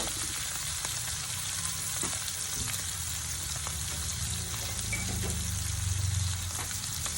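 Garlic sautés in rendered pork fat for pancit canton with a steady, close sizzle and crackle that continues throughout, with occasional light stirring taps.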